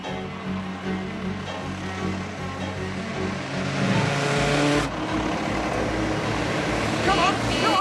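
A police patrol car races along in a chase, its engine roaring loud and steady with rising revs and a shift midway, while people shout over the motor.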